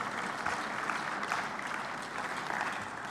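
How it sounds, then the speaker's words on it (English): Audience at the 3i Africa Summit 2024 conference claps in a main conference room, a steady wash of many hands, fairly loud and continuous for a few seconds with no voices on top. "they also deserve a very big clap"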